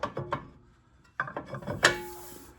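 Several sharp metallic taps on a rusted front brake rotor of a 2008 Range Rover, struck around the hub to break it loose; a quick cluster of knocks, a pause, then more hits ending in a ringing clang, close and fairly loud.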